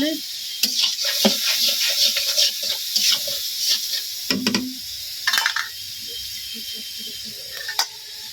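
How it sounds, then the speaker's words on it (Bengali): Spices with turmeric, salt and chilli powder sizzle in hot oil, broken by irregular scraping stirs and bursts of steamy hiss, close and fairly loud with faint background noise. "হলুদ লবণ আর পরিমাণ মতো মরিচে গুঁড়া দিলাম দিয়ে এখন কষিয়ে"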